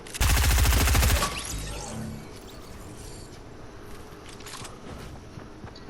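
Fortnite gunfire in the game, opening with a loud, dense burst of rapid shots for about a second, followed by quieter game ambience with faint scattered clicks and footsteps.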